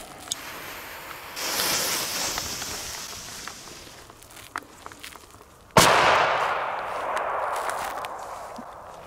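A loud German firecracker bursts in a hand, one sharp crack followed by a decaying hiss, preceded by quieter fizzing and shuffling noises outdoors.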